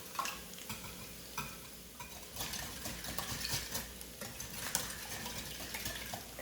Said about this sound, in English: I'm gonna whisk this up good.